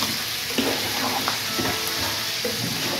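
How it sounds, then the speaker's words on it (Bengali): Chicken pieces stir-fried with spices in a pan, a steady loud sizzle with occasional scrapes and clacks of a stirring utensil, no voices. "মাংসগুলো কষাইতে আছে"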